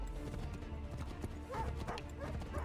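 Horse hooves clip-clop at a steady pace in Assassin's Creed III, close and continuous under a dense bed of game ambience, with no voices over them.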